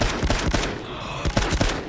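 Dense, rapid weapon fire in the World War I shooter Battlefield 1, with bursts of loud close shots cracking over a thick, booming battlefield din and a brief lull midway.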